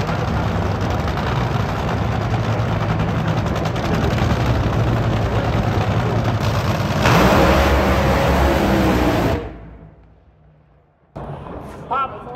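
A deafening, roaring engine blast from an NHRA drag racing car launching fills the air for about nine seconds, then cuts away sharply into quieter rumble and crowd noise.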